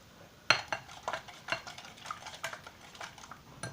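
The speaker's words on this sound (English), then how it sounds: "we want to beat these eggs really well" A whisk or fork beats eggs with cream cheese in a bowl for a spinach and egg pie, making a series of quick scraping clinks and taps against the bowl side, close and fairly quiet.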